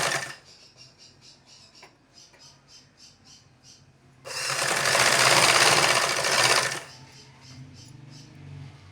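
A sewing machine stitches a fabric panel for an Anarkali frock: a few light rhythmic ticks, then a loud, fast continuous run of stitching for about two and a half seconds before slowing back to soft clicks.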